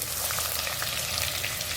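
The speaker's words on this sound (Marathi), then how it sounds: "कढीपत्ता टाकते आणि कांदा आहे थोडासा तो टाकूया" Curry leaves and onion hit hot oil for Nagpuri tarri, giving a steady, loud, dense sizzle that crackles on without pause.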